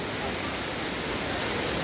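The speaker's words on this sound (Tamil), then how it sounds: "நீர் அருவியிலிருந்து விழுந்து வேகமாக தாழ்வாரம் நோக்கி செல்கிறது" Water from the Suruli falls plunges and rushes downward in a loud, dense, unbroken roar of white noise that holds steady and close for the whole stretch.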